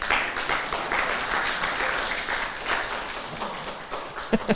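Church congregation clapping during a Sunday morning sermon, a steady wash of many hands that holds at moderate level, with a few louder claps standing out near the end.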